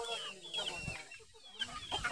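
Village chickens on a farm cluck softly as a farmer calls them, with a few short, close clucks over a faint background.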